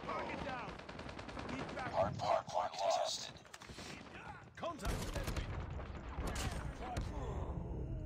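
ZRG 20mm sniper rifle fire in Call of Duty Mobile, sharp booming reports with a few rapid bursts amid in-game noise, a player talking over the action.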